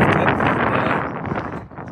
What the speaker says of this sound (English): Man, it's windy. It is so windy. Oh, it was windy. Hear it whipping.